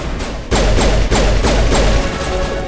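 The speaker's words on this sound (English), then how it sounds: "that's the grenade" A grenade goes off in the video game Mass Effect, giving a loud close burst followed by several more sharp, booming impacts in quick succession.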